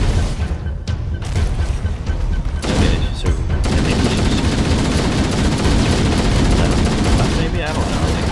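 Gunfire and shotgun blasts in the game Halo CE, a loud, dense stretch of rapid shots and booms running almost continuously, with people talking over it.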